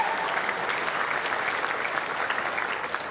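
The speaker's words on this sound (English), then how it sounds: "A big round of applause for some of the fiercest competitors I've seen in my time in lawn" A crowd at a lawn bowls competition final gives a sustained round of applause, steady dense clapping that fades slightly toward the end.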